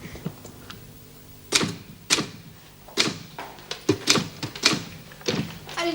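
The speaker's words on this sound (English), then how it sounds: "Me and typewriters don't get on at all." Typewriter keys struck in an irregular run of sharp, loud, close clacks and thunks, about a dozen strokes in six seconds with short pauses between, no voices.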